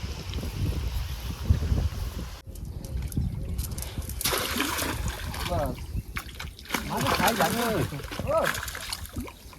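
People wade into a drained village pond to catch fish with a net, with irregular splashing and sloshing water close by under frequent talking voices.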